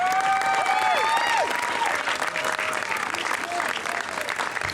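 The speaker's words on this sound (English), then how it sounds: "a big round of applause" Steady, loud applause from a crowd at a San Francisco community rally fills the space throughout, with cheers and whoops rising above the clapping.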